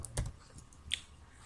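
Quiet computer keyboard typing while entering code fields, a few sparse keystrokes with clicks near the start and one sharper tap near the one-second mark, close and faint.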